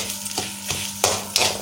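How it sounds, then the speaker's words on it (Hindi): Broken wheat (dalia) being roasted and stirred in desi ghee in a pan: scraping strokes a few times a second over a soft, low sizzle, with two louder scrapes near the end, close and without speech. "दलिए को जो है हम भूनना स्टार्ट करेंगे"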